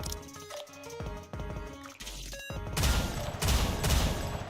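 Rapid gunfire from a sniper character in Wuthering Waves, a fast run of sharp cracks that builds into loud, dense bursts over game music and effects, with no voices.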